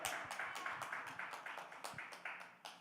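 A small group claps in a quick, even rhythm for a host, each clap distinct and fairly close, with a slight build near the end.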